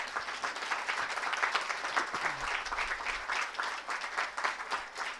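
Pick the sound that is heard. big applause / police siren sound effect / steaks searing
big applause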